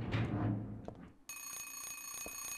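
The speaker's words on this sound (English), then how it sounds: "it's an alarm clock, not a phone" An alarm clock in the video game Silent Hill 3 rings loudly and steadily, its bright continuous bell tone cutting in abruptly after a moment of rustling and low rumble.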